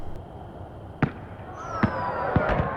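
Video game fireworks in a Dragon Age Inquisition mini-game, several sharp cracking bursts spaced about a second apart, one with a rising whistle, over a soft ambient background.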